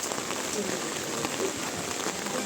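Steady rain falls in the Arashiyama bamboo forest in Kyoto, a dense, even hiss of drops with faint patters on nearby surfaces, and a voice is faintly heard beneath it.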